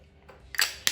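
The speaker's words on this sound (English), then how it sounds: "So let's put some on the face" Setting spray misted onto a face from a beauty product bottle: two short, airy hissing bursts close by, the first longer, the second a quick sharp puff, over a quiet room.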